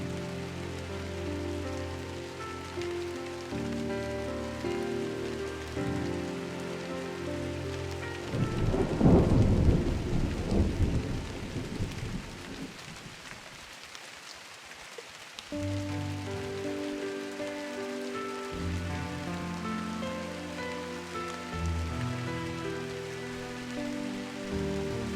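Thunderstorm in the video game Drizzlepath: Genie, steady rain hiss with a deep rolling thunder swell in the middle that fades, then rain and low ambient tones resume.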